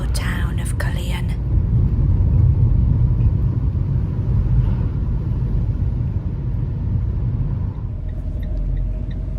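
A car engine rumbles steadily from inside the cabin while driving through a small town centre, a low continuous drone with a brief higher rustle at the start and no talk.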